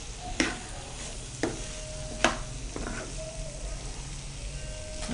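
Grated carrot being stirred into a rajma (kidney bean) salad in a bowl, giving a few soft scraping and clinking strokes close up, with quiet kitchen background and faint tones.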